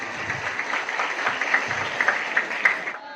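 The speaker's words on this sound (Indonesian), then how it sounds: "Mana tepuk tangannya?" Audience clapping at a Qur'an memorisation graduation in Deli, dense and uneven with a few sharper claps, rising and falling for about three seconds before cutting off.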